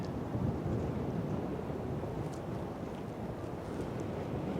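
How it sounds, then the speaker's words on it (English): Wind blows hard in a cold blizzard near a waterfront where a ship waits, a continuous low rumbling roar buffeting the microphone, steady and close with no talking. "Awful damn cold here. The wind. It's the wind."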